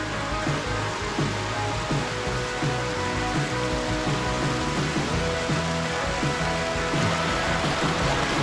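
A small waterfall on a rocky Hong Kong mountain stream, a loud, steady rushing roar of falling water that fills the whole clip without a break.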